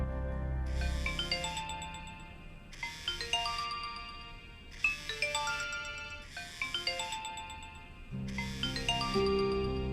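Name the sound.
mobile phone ringtone, incoming call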